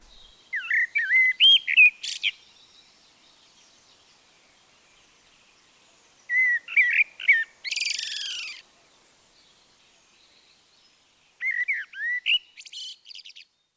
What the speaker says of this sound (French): Ou encore le merle noir.